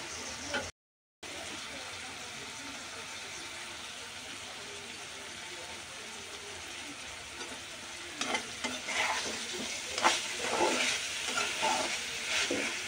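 Chopped raw tomato added to bitter gourd frying in a pan, followed by steady sizzling and spatula stirring that grows louder toward the end, with some voice in the background.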